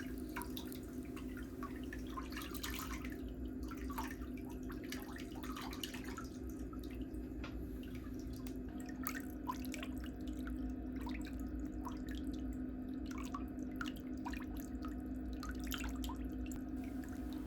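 Water drips steadily from a foot lifted out of a soaking basin during a pedicure, a quiet scatter of small drips and splashes over a constant low hum.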